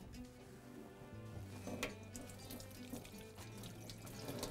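Hands washed under a running kitchen tap, a faint, steady stream of water splashing into a sink without pause, quiet and close.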